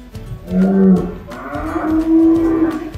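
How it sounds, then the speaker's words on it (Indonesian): Simmental and Limousin beef cattle at a cattle farm moo loudly and close by, two long, deep calls in a row that nearly fill the moment, with no talk over them. "Unggul ini, jenis sapi unggul-unggul ini. Simental. Ini limusin-limusin bagus ini."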